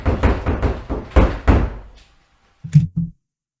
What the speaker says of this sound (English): Is he punching the door?